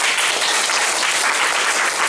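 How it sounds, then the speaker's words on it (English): An audience claps together at a Toastmasters speaking event, a dense, even burst of applause lasting about two seconds with no voices over it. "Can we clap?"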